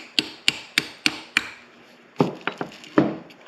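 A metal punch taps a stubborn pin through a carbon fiber C8 Corvette steering wheel paddle: five evenly spaced sharp close clicks, a short pause, then a few quicker irregular taps.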